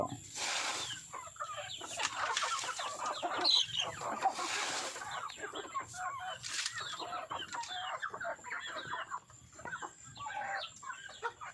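Chickens cluck and squawk repeatedly while being fed unhusked rice, several birds close by, with scattered rustling and no voices.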